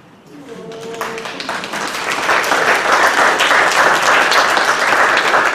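A church congregation breaks into applause, starting with a few claps over a voice and growing into loud, sustained clapping from the whole room.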